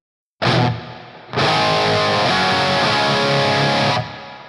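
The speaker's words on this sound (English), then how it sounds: "If I turn on the reverb, I'm going to select plate." Electric guitar played through a Tone X amp model of a 1978-79 brown sound, with plate reverb: a short loud distorted chord, then a longer sustained chord ringing out before a sudden cut.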